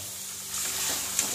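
Boiled potatoes and peas land in a pan of hot masala, and a sizzle and frying hiss rises sharply partway through the brief, close sound.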